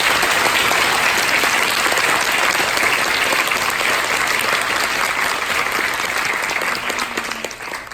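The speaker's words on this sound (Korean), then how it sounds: "6급 선생님들께 크게 박수를" A room full of graduates at a Korean language institute ceremony applauds their teachers, loud dense clapping that holds steady for several seconds before tapering off at the end.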